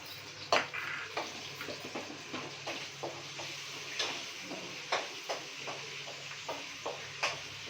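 Spices for a tempering fry in oil in a kadai, giving a quiet, steady crackle with scattered sharp pops and ticks throughout and no talking.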